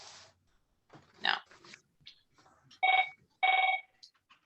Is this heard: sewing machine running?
no